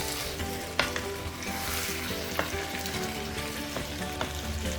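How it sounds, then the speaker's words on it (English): Garden egg stew with salmon being stirred gently in a pot on the stove, a steady close sizzle and simmer with occasional soft scrapes and knocks of the spoon, no voices. "Your stirring should be gentle so that you don't break your salmons in there."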